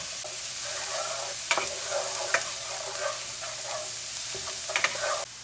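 Chopped onion and four cloves of garlic sauté in a pan for stuffed pork chops, giving a steady close sizzle with occasional sharp clicks and stirring knocks and no talking.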